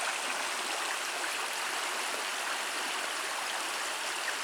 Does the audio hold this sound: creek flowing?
yes